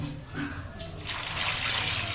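Water is poured into a container to wash peeled cassava for a Ghanaian Ewe cassava cake, a steady splashing rush that swells after the first second and continues to the end, with faint talk nearby.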